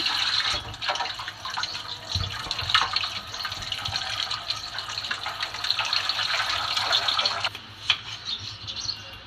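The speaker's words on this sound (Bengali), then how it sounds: "আমি আলুগুলো ভালো করে ধুয়ে নেব।" Tap water runs steadily into a sink as three potatoes are washed, a continuous splashing hiss with small knocks and rubbing, heard up close with no talking.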